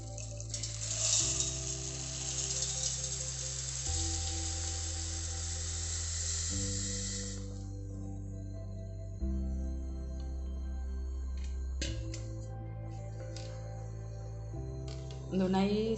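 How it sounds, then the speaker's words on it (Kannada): A mixer grinder whirs loudly and steadily as it grinds fried rice into a fine powder in its jar, stepping through several pitch changes as it runs. "mixie jar ಪಾಡ್ದು podi ಮನ್ಪುವೆ"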